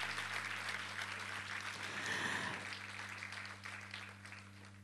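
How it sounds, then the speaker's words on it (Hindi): Audience applause at a stage concert after the tabla player and guitarist are introduced, a full, continuous clapping crowd over a steady hum that slowly tapers toward the end. "जोरदार तालियां हो जाएं आज की इस बज़म में"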